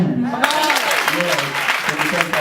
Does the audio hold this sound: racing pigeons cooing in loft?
no